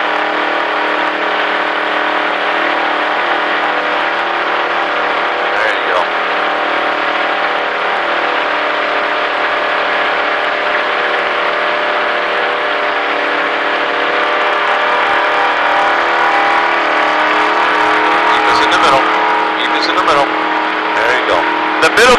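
A race car holds a loud, continuous high-revving engine drone at speed on the Daytona Speedway oval, with someone talking over it throughout.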